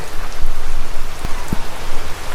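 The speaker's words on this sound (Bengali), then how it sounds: "বৃষ্টি পড়তেছে ভাই" Sudden rain pours over a village farm plot of leafy greens on the edge of Dhaka. A dense, close, steady hiss is punctuated by sharper individual drops hitting nearby surfaces.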